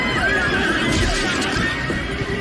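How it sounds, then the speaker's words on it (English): A horse neighs loudly and close by, a sustained whinny that carries on for over two seconds with a wavering, strained pitch. "the horny horse"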